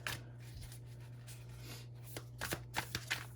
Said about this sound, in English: I'm gonna pull 4 cards